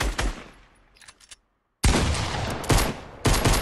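Video game gunfire: loud close bursts of shots that fade into a short near-silence, then resume abruptly as dense, heavy volleys with sharp attacks, no voices present.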